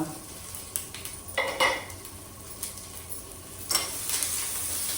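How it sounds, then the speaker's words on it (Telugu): Ginger pieces and green chilies frying in a pan for daddojanam, a steady close sizzle with a few scraping stirs and light clinks of a utensil against the pan, with no talking. "అల్లము, పచ్చిమిరపకాయలు కొంచెం వేగాలి కదా అది కూడా"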